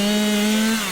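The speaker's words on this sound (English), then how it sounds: "Ziad said as he cut the door in half with a chainsaw" Chainsaw cutting through a wooden door, a loud close steady whining drone at constant pitch with a buzzing rasp, held throughout without pause or speech.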